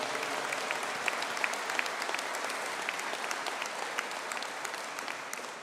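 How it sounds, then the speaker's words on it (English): Graduates of a Master of Science in Software Design with Cloud Native Computing receive a collective round of applause at a Midlands conferring ceremony: steady, dense clapping from a large hall that fades slightly at the end. "Could I ask for a collective round of applause for the graduates of the Master of Science in Software Design with Cloud Native Computing"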